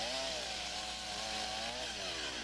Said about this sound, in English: The Log Wizard is a one-of-a-kind chainsaw attachment that can be used for notching and shaping of timbers